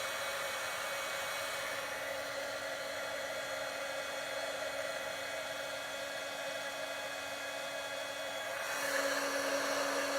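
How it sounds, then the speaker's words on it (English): A heat gun blows steadily and close over a stamped card, a continuous whooshing hiss that swells slightly near the end, with no talk. "Just talk amongst yourselves while I use the heat gun."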